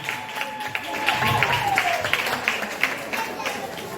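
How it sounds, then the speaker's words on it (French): A crowd gathered for an Easter celebration claps for the youth, a moderate steady applause with sharper claps standing out, a tonal whistle or feedback sliding through, and voices mixed in. "On les ovationne,"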